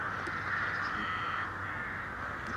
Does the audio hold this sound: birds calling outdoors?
yes